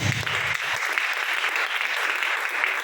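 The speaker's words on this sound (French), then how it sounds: "Acclame le Seigneur Jésus" A church congregation applauds together during a French-language service, a dense, steady wash of clapping that fills the whole moment at close range with no talking over it.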